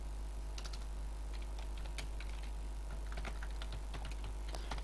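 Quick keyboard taps come in short irregular bursts over a steady low electrical hum, close and fairly soft, with no voices.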